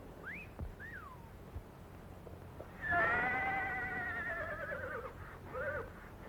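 A horse whinnies loudly once, a long quavering neigh preceded by a couple of shorter faint whistle-like calls, with another brief whinny at the end, heard alone in a quiet setting.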